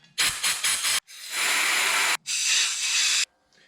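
Brake cleaner sprayed from an aerosol can into an Audi 2.0T oil cooler: several short sharp hissing bursts, then two long loud sustained sprays separated by a brief pause, close and alone.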